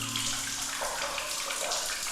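Hot water pours steadily from a tap in a guesthouse bathroom during a bikepacking trip through Pakistan, a continuous close hiss and splash with no talking.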